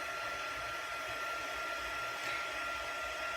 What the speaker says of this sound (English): using my heat tool and making sure I get to the back and the front